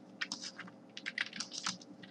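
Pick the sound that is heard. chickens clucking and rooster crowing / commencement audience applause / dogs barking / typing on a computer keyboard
typing on a computer keyboard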